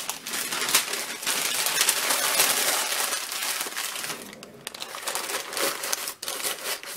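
Gift wrapping paper being crumpled by hand, giving a dense, continuous crackle and crinkle close to the microphone that runs through the whole stretch and dips briefly twice near the end.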